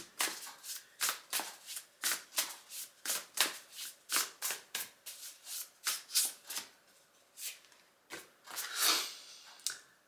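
Tarot cards shuffled by hand in a quick run of papery riffles and slaps, close and fairly quiet, alone without talk.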